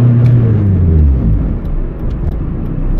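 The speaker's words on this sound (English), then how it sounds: "This exhaust sounds pretty good" A turbocharged Honda Civic EJ8 with a D16 engine: the exhaust drones low and steady from inside the cabin, a deep rumble that eases slightly as the engine note settles.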